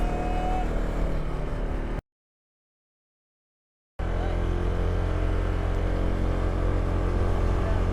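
A Honda PCX 160 motor scooter carrying a passenger over a bumpy, potholed road in Atimonan, Quezon, its engine droning steadily with wind rush, broken by a two-second silent gap.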